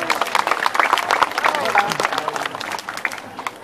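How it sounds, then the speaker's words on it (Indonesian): Audience at a white tiger show at Taman Safari Indonesia II in Prigen, Pasuruan breaking into applause, dense clapping with scattered shouts and crowd noise that gradually thins toward the end. "Kembali kita berikan tepuk tangan."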